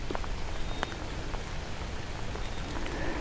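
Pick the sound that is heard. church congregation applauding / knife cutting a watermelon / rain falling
rain falling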